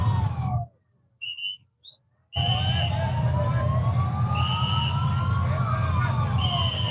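Emergency vehicle sirens wail as rescuers arrive at a luxury hotel in Havana, Cuba, after an apparent gas leak explosion; rising and falling tones sound alongside whistle-like blasts over a rumbling street, with a brief cut to near-silence early on.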